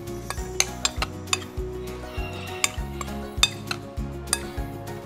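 Pork being mixed with seasonings in a bowl, with repeated close clinks and scrapes of a utensil against the bowl in an uneven stirring rhythm, loud and alone without talk.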